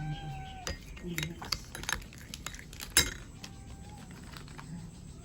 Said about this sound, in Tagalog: Mix natin mabuti mga kamami para maghalo yung kape at saka yung gelatin